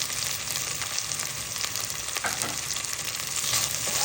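Turkey meat frying in a pan on the stove while pasta cooks nearby, giving a steady, dense sizzle and crackle throughout, with occasional faint scrapes of stirring.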